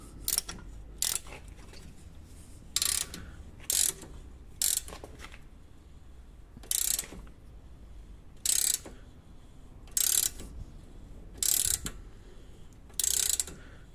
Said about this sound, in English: We'll continue tightening this until it's tight.